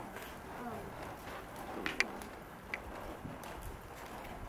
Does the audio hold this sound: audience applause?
no